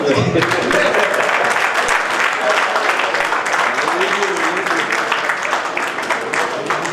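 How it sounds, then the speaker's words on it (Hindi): An audience at an award ceremony in Bikaner breaks into loud, continuous applause, many hands clapping together close by, with voices mixed in under the clapping. "बच्चों के लिए काम मेरी तरफ से तालियां।"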